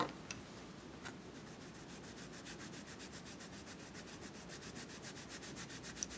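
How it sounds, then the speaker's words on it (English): A colored art pencil turns in a small hand sharpener, giving a quiet, close, steady scraping that repeats in an even rhythm of rapid strokes, with no other sounds. "I'm going to use my little hand sharpener."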